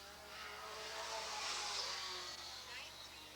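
A 1988 Camaro race car driving on the Eugene Speedway track, its engine swelling to a roar as it passes and then fading, with a voice talking over it.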